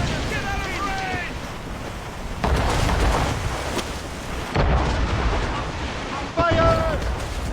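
Ship cannons firing in a naval battle in the video game Assassin's Creed Rogue: several heavy booms land a few seconds apart amid constant wind and sea rumble. Shouted crew voices and chirping tones sound over the battle.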